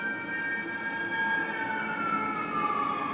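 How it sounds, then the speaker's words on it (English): Emergency vehicle sirens outside in New York, a sustained wailing tone sliding slowly down in pitch, muffled as if heard through a window, over steady city rumble with no talking. "let's give the sirens outside a moment."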